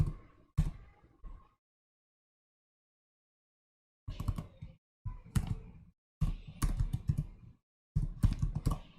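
Typing on a computer keyboard, with close, crisp bursts of key clicks arriving in clusters separated by a few seconds of silence.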